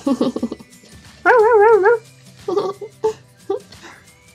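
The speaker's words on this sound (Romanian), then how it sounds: "Ai grijă să nu te muște cățelul!" A small dog gives several close, loud yips and barks, one drawn into a wavering whine, in uneven bursts with short gaps between them.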